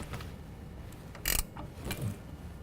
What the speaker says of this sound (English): we're going to tighten our upper ball joint to 85 foot-pounds